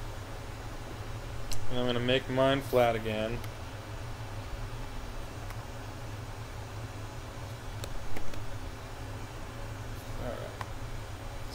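Steady broadband pink noise test signal hisses continuously as a level reference for checking a $50 Rockville RCM03 studio microphone, while someone speaks briefly over it.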